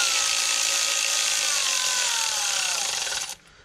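Steady power tool whirring under load, likely a cordless driver snugging bolts on a BMW E46 330i engine during heater pipe and crankcase vent repair, running continuously at close range then cutting off near the end.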